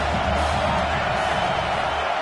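A stadium crowd at a college football game, during the final possession, roars in a dense, continuous wall of cheering that holds steady throughout.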